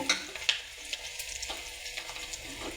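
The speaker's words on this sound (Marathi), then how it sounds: "सोनेरी रंगावर एकदम कांदा भाजून घ्यायचा" Onion browning in a pan for a village-style egg curry, giving a steady close sizzle with faint stirring scrapes and no speech.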